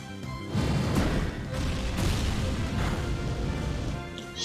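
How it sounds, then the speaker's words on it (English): A Sacred Fire attack effect in a Pokémon video game battle erupts as a sustained roaring, crackling blast with several booming bursts, loud and dense, with no one speaking over it. "So let's get this Sacred Fire going."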